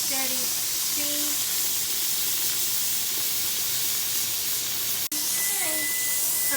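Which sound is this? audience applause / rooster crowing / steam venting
steam venting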